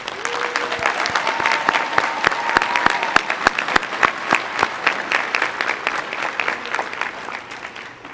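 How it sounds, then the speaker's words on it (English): A large crowd at a college commencement ceremony applauds steadily, a broad, even roar of many clapping hands with a few sharper claps standing out, tapering slightly toward the end. "join me in recognizing your friends, families, and loved ones whose encouragement, care, and support have made this day possible with a round of applause"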